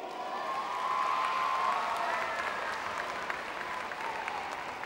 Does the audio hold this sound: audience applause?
yes